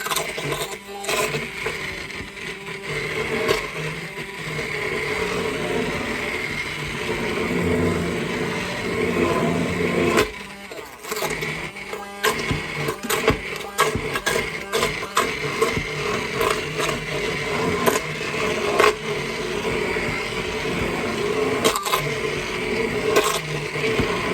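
An immersion blender purees cooked apple butter in an Instant Pot, a steady motorized whir with scraping and bumping pulses running throughout, loud and close, with no talking over it.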